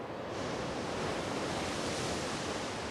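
Surf washes steadily onto the beach at White Rocks on the North Coast on a cold day, a constant broad roar of breaking waves with some wind, no voices.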